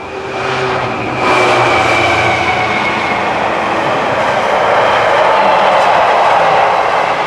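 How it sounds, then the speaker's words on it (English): A train rumbles past a hard-clay underground workshop bunker dig, a loud continuous roar with rail clatter building after the first second and holding steady to the end. "I mean, fucking trains."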